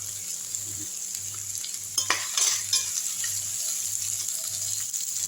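Onions and curry leaves sautéing in a pan for a South Indian dish, with a continuous moderate sizzle and a brief burst of louder stirring and utensil clatter partway through.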